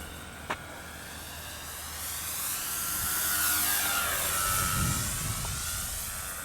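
A Dynam P-51 radio-controlled model plane flies at half throttle, its high electric whine swelling and fading with a clear pitch sweep as it passes overhead outdoors, moderately loud against steady wind noise.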